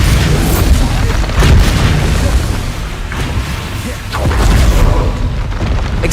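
Heavy magical blasts from the Bombarda spell in Hogwarts Legacy boom loudly and repeatedly, several deep explosive thumps in quick succession with rumbling tails.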